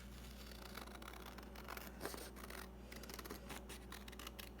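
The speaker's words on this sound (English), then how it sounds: "we're going to trim off this extra bit" Scissors snip through paper in quick, repeated cuts over a steady low background hum.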